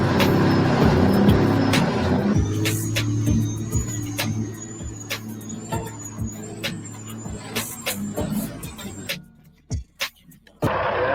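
A Kenworth W900 truck with a smooth-shifting transmission drones loudly with a steady engine hum and rhythmic clunks, then fades into sparse knocks and clicks; voices talk faintly throughout.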